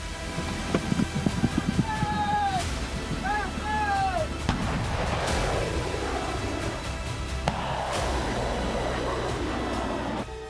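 A flurry of sharp cracks of air defence missile fire is followed by rising whistling tones and heavy distant blasts that rumble on, with voices faintly underneath.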